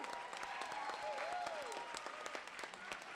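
Applause from the audience at a university climate comedy show, steady clapping throughout with a faint tonal whistle-like sweep partway through.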